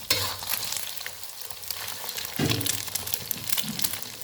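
Chopped garlic frying in a pan for egg fried rice, with a continuous close sizzle and occasional stirring scrapes.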